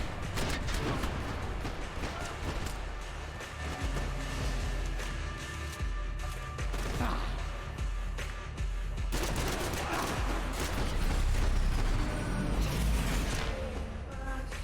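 Dense, continuous gunfire from the Max Payne 3 video game, with rapid overlapping shots and bursts under a steady roar of in-game action and booms throughout.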